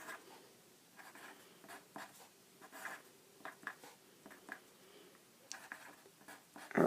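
A pen or pencil writes on a sheet of paper up close, with a quiet run of scratchy strokes and taps, irregular short bursts of scribbling and a louder knock at the end.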